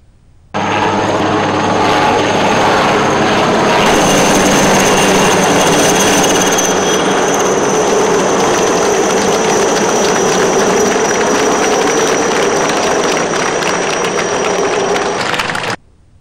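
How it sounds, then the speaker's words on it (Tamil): Helicopters fly low over a government hospital while showering flowers on it. A loud, steady engine roar starts abruptly, holds for about fifteen seconds, then cuts off. "இதேபோல அரசு ஸ்டான்லி மருத்துவமனை மீதும் ஹெலிகாப்டர்கள் பறந்து மலர்களை தூவின"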